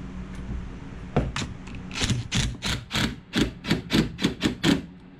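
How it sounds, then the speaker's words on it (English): Sharp metallic hammer strikes knocking salt chunks off a Yamaha F250 outboard anode holder, sparse at first, then a steady run of about a dozen evenly spaced blows. "I like to take a hammer and a flathead and knock the chunks off of the anode holder"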